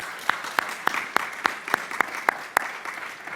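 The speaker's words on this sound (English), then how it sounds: "If we could just give a round of applause," Scattered, sparse hand claps from a conference audience thanking event sponsors, roughly a dozen distinct claps in an uneven rhythm, fairly close and with no talking over them.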